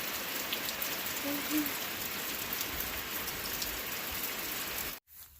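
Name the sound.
rain falling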